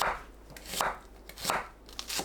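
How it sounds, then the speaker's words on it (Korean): A knife finely slices onion into short strips on a cutting board for perilla leaf kimchi, giving crisp, regular cuts about every half second, close and clear with no talking. "양파는 짧은 길이로 곱게 채 썰어주세요."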